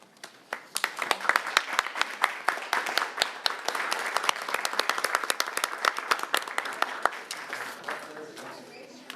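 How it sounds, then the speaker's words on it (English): A round of applause at a Tacoma city council meeting as a proclamation is accepted: a modest group clapping in sharp, uneven claps that thin out toward the end, with faint voices underneath. "we'll do a round of applause"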